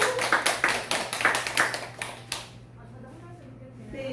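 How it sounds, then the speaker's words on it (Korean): An audience applauds a guest being introduced at an event: brisk, rhythmic clapping from a modest crowd for about two seconds, fading out as a voice begins speaking. "큰 박수 한번 부탁드립니다"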